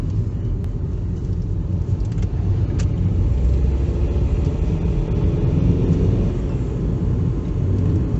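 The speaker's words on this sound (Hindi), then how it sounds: "ये देखिए टर्बो वेंट होगा, फुल पावर, और टर्बो का साउंड का मज़ा ही कुछ अलग है।" A turbocharged car engine pulls at full power up a mountain ghat road, heard from inside as a steady, loud low rumble with road noise that holds without pause for the whole stretch.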